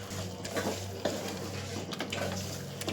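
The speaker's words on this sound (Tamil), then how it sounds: "போட்டு இப்போ நல்லா கிண்டி விடலாம்." A spoon stirs chicken curry in a pan that sizzles steadily, scraping and clinking against the metal in irregular strokes, close and moderately loud over a constant frying hiss.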